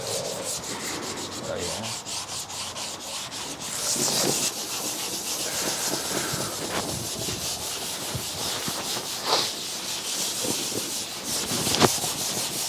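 Sanding block rubbed by hand over the body of a 1987 Mazda RX7, a steady scratchy back-and-forth rasp running throughout, close and continuous, with a brief spoken remark.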